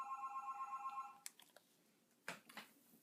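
A phone rings with a short electronic tone in a quiet room, then several faint clicks and taps follow as it is silenced.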